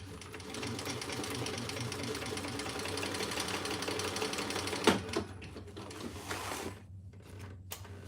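Sewing machine runs steadily for several seconds while stitching a divided basket, a continuous close mechanical whir with a few clunks near the end before it slows and pauses.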